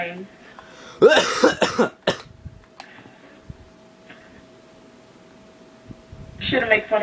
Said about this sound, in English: Shouldn't make fun of my cough.